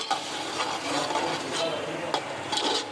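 Whisked yogurt being stirred into frying potatoes in a pot over a high flame, a continuous soft sizzle broken by repeated scraping and rubbing strokes of a spoon.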